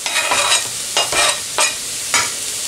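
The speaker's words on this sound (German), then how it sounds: "Und hier kommen jetzt die anderen Zutaten, also Möhren, Knoblauch und Sellerie in die Pfanne rein." Carrots, garlic and celery fry in oil in a pan, a steady close sizzle broken by about four scraping stirs, each a short rasping burst, with no voices.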